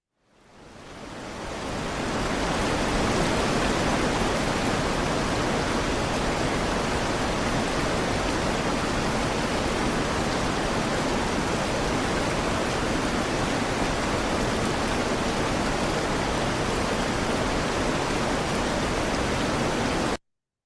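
A cascade of flowing water rushes in a steady, dense roar that fades in over the first two seconds and then holds constant and loud to the end, with no voices.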